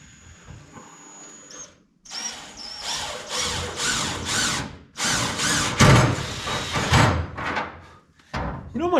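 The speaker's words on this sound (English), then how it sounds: "now I'm just drilling more holes in it" A power drill bores holes through the sheet-metal trunk floor of a Tri-Five Chevy, sounding as several close, loud whining bursts of a second or so each, separated by short pauses.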